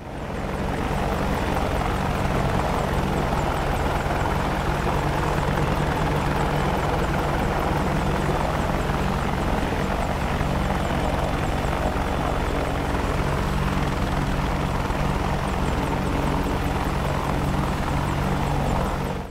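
AH-64 Apache attack helicopter in the DCS combat flight simulator, a loud, continuous rotor and turbine drone with a steady pulsing beat, sustained throughout and heard alone.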